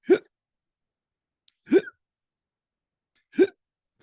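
Three loud, sharp hiccups, evenly spaced about a second and a half apart, each a short isolated burst with silence between.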